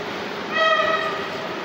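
An SM42 diesel locomotive at Kraków Płaszów station gives a steady rumble, and a brief tonal horn-like wail rises over it for about half a second.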